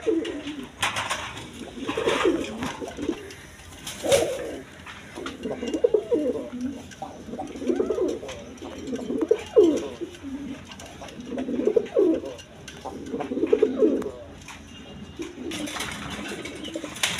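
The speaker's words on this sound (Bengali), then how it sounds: "এখানে এক পেয়ার গররা কবুতর আছে দেখেন, রেড কালার গররা" A pair of large red Gorra pigeons coo in repeated soft, rolling phrases at close range, with a few wingbeats and some background noise between the calls.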